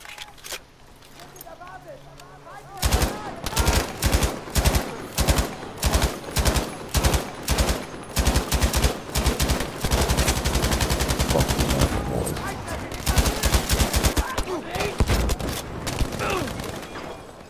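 Rapid automatic gunfire in Battlefield V, bursts of rattling shots from about three seconds on, loud and close, turning into sustained firing later, with a player's voice talking over it.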